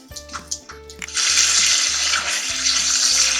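Masala of onion and ginger-garlic paste frying in oil with potatoes and moongre pods: a few soft kitchen clinks, then a loud, steady, close sizzle that fills the rest of the clip.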